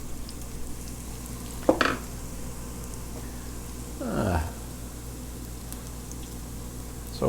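A carved wooden spoon stirs a pot of vegetable bean stew, giving two brief soft scraping swishes over a steady low background hiss, with no one talking.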